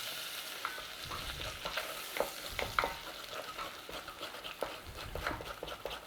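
Flour is stirred into bubbling butter in a pan while making a roux for a classic British fish pie. A soft continuous sizzle sits under irregular spoon scrapes and clicks, close but fairly quiet, with no talking.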